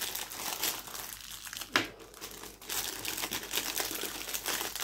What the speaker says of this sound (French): Nous allons déballer ça.